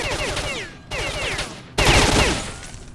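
Gunfire in the video game Stalker: Shadow of Chernobyl, heard as three loud, close bursts in quick succession, each one cutting in sharply before fading.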